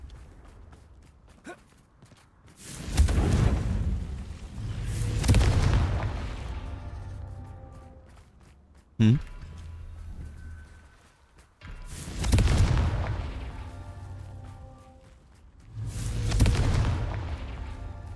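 Confringo fire-spell explosions from the Hogwarts Legacy video game boom out in four or five heavy bursts, each swelling and fading over a couple of seconds, with a sharp crack between them.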